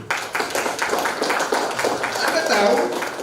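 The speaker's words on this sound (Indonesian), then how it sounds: "Tepuk tangan dulu." An audience claps steadily through a seminar hall, a dense, even patter of many hands that continues without pause under a speaking voice.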